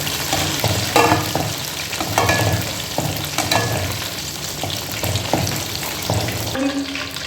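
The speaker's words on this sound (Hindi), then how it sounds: "बस इसको थोड़ा सा फ्राई ही करना है ताकि कोटिंग इस पर अच्छे से हो जाए" Pieces of beef tikka fry in a pan, a loud, continuous close sizzle broken by repeated scraping and stirring strokes, with no voices.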